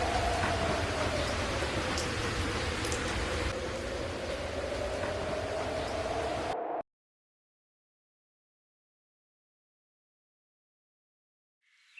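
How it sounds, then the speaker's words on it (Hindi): Heavy rain pours down steadily as a dense, continuous hiss for about seven seconds, then cuts off abruptly into near silence, with only a faint return of noise at the very end. "और बारिश भी ऐसे बरसी जैसे कुदरत खुद रो पड़ी हो"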